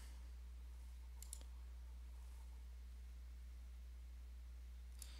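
A computer mouse clicks to confirm a code entry, giving a few faint, crisp clicks close together and one more a few seconds later over a quiet background hum.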